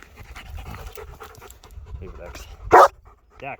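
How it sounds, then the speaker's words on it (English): A dog pants and whines close by amid low talking, then lets out one sharp loud bark, followed by a softer yelp. "Sorry about the dog barking."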